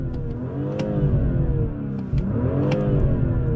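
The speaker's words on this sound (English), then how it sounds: "But you can rev it all the way to redline" BMW M340i engine revved in park, two rising and falling sweeps toward the high revs, close and strong, with a few faint pops between pulls.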